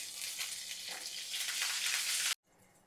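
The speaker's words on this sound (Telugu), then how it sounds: "జస్ట్ 1 స్పూన్ ఆఫ్ నెయ్యి, ఆవాలు, వెల్లుల్లి అండ్ కరివేపాకు." Mustard seeds, garlic and curry leaves sizzle in a spoonful of hot ghee, a bright crackling fry that grows louder and then cuts off abruptly, leaving a faint hush.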